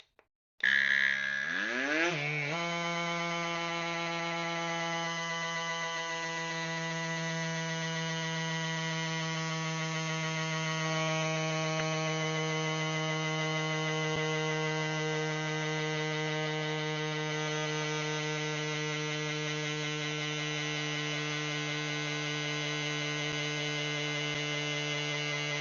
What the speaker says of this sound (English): Quite noisy, but yeah, that's pumped it up nicely.